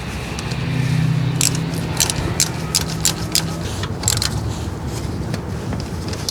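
A hand ratchet snugs the thermostat bracket bolts on a Honda Civic, producing quick light clicking strokes in a few short runs over a low steady hum, fairly close.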